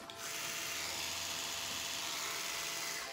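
An electric toothbrush hums loudly and steadily up close for about three seconds, a continuous buzzing drone that starts and stops abruptly, with no voices.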